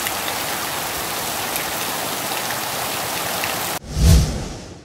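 Steady rain on a street with overflowing, clogged manholes, broad even hiss for most of the stretch, then an abrupt cut to a short low rumbling thud near the end.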